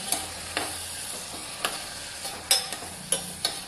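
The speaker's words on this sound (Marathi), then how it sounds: "तर हे वाटण परत एकदा ढवळून घ्यायचं" A ground paste of coconut, coriander and green chilies is stirred in a pan over a low sizzle, with several distinct scraping strokes of a spoon at irregular intervals, close and fairly quiet, no speech.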